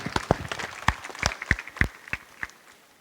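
Sparse, scattered hand claps from a small audience at an eye camp ceremony in Berasia, with about a dozen distinct sharp claps spread unevenly over a few seconds, fairly close and without a sustained roar.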